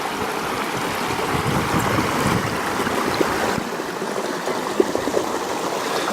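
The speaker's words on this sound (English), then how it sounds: "A stream across the path." A stream flowing across a footpath rushes and gurgles steadily at close range, a dense unbroken wash of water with small splashes, no voices.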